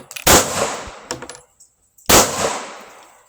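A Smith & Wesson M&P 2.0 pistol fed from a 30-round magazine fires loud, close shots outdoors, with a rapid burst of reports, a brief pause and then another sharp shot ringing out.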